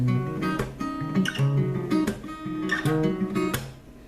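A guitar picks through arpeggiated chords with muted, choked notes mixed in, a steady rhythmic pattern played up close.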